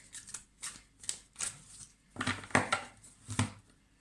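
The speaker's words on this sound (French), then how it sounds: "pendant que je bats les cartes" Tarot cards are shuffled close by in several quick riffling bursts with short pauses between them, crisp and fairly loud, with no talk.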